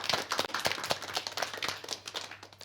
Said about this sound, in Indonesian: Tepuk tangan dulu untuk adik-adik yang ada di studio